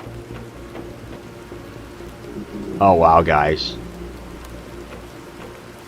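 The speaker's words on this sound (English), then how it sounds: "It is raining, my friends." Steady rain falling in the Planet Crafter game, a dense even hiss that runs throughout, with a man briefly exclaiming over it midway.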